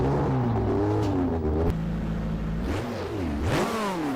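A historic GT racing car engine from the rFactor racing game revs hard and loud, its pitch climbing and falling through repeated gear changes, with no speech heard.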